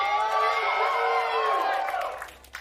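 A LOUD vs Evil Geniuses Valorant match in an esports arena, where the crowd lets out a loud burst of cheering and whooping that fades over about two seconds.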